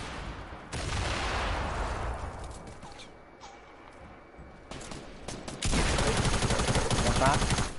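Dense bursts of automatic gunfire from a Fortnite Battle Royale duos match crackle loudly, easing off midway before a heavier volley resumes, with players' voices heard around it.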